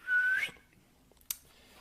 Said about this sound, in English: He's gonna whistle.